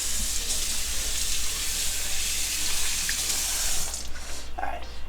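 Mango pieces rinsed under a running kitchen tap: a steady, close rush of flowing water splashing into a sink, continuous throughout and ending with a little extra splashing.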